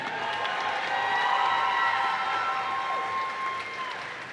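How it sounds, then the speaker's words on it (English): A crowd claps and cheers after a flyweight title fight, a steady wash of applause that swells and gradually tapers off, heard at a moderate distance. "let's get another round of applause for that entire fight right there"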